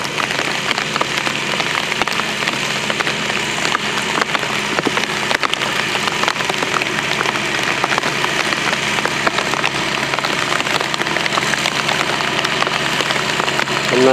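Belarus MTZ tractor sitting out in a field during a rainstorm, dense steady rain pattering on surfaces dominates while a low engine idle hums faintly beneath, continuous and without talk.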